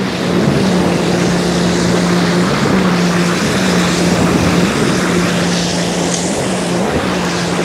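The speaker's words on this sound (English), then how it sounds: "You want some jet ski?" Jet ski engine droning on the water at a beach in Barbados, a loud, steady motor hum with a sustained tonal whine and wind and water wash around it.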